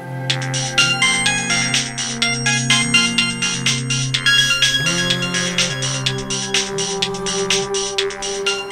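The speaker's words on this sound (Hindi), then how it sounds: "मोबाइल का रिंग बजना, वो भी लगातार।" A phone ringtone plays loudly and continuously, a repeating electronic melody with a steady rhythmic pulse.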